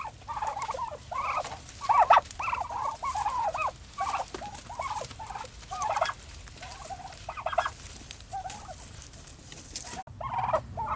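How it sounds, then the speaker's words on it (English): Turkeys in outdoor farm pens gobble continuously, overlapping calls repeating in dense, rapid bursts from a sizable flock, loud and close throughout. "So here we are at the turkey pens."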